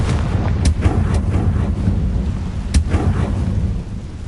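A Confringo blasting curse going off in Hogwarts Legacy, a loud rumbling explosion with a long roaring tail and a few sharp cracks on top, with no voices.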